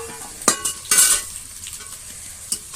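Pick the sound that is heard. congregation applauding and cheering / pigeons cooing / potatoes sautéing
potatoes sautéing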